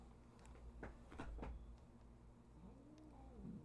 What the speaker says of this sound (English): The cats are arguing right now.